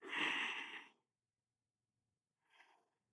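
A long, deep inhale during yoga breathing drills, close and breathy, followed after a pause by a short second breath sound.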